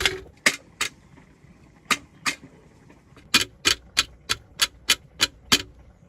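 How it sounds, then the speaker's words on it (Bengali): Garlic cloves crushed for a village-style fish curry in Hatiya: sharp, close knocks come in two pairs, then a brisk, even run of about nine blows, with quiet pauses between. "এগুলো হচ্ছে রসুন, এগুলো মাছের সাথে দেওয়ার জন্য থেতলে করা হইতেছে।"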